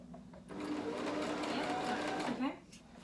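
A sewing machine stitches through fabric in one steady, close whirring run of about two seconds, starting and stopping abruptly, while a person talks alongside it.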